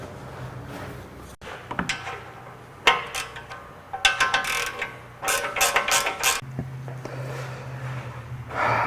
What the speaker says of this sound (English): Now that all 4 bolts are in hand tight, you can snug them down with a wrench.